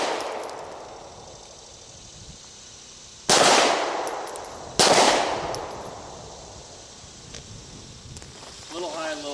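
Two sharp handgun shots fired at a target during a near-far shooting drill at an outdoor range, spaced about a second and a half apart with ringing decay, under steady background noise and a brief voice at the end.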